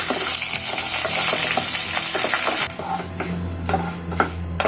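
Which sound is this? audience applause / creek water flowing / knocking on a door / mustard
mustard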